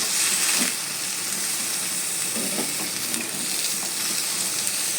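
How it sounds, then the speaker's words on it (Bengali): Soybean curry seasoned with salt and turmeric sizzles in a pan while being stirred, a close, steady frying hiss with soft scraping and clinks from the stirring spoon throughout. "এবার আমি আবার এটাকে নেড়ে নেব"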